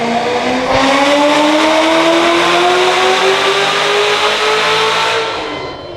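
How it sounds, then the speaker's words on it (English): Loud Corvette roaring past at an open house event, engine pitch climbing steadily as it accelerates by close, then fading away at the end. "It's loud. That was a Corvette."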